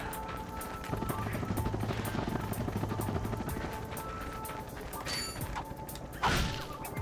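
Crank mechanism turning to extend a bridge in Ratchet & Clank on PS3, a busy mechanical whirring and clanking with game sound effects and a sharp thump near the end, no voices.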